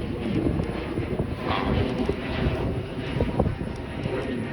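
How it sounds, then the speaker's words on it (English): Airplane climbing out just after takeoff from a nearby airport, a continuous broadband engine roar mixed with wind buffeting on the microphone, steady and fairly loud throughout. "It's an airplane."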